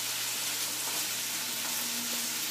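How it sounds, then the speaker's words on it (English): Meat and beetroot stir-frying in a wok over a high flame give a steady, dense sizzle that holds at an even level throughout, close and continuous with no talking. "I'm stir frying this meat."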